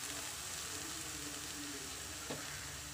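Anchovies sizzle in a hot pan while a dry fish gravy with raw mango is being made, a steady close hiss of frying with a brief stir or clatter near the end and no talking.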